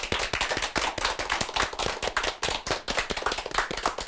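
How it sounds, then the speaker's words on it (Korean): Audience applause greets a nun invited on stage at a Korean Catholic broadcast event about martyrs; dense, steady clapping from a near crowd, loud and continuous with no voices over it. "큰 박수 부탁드립니다."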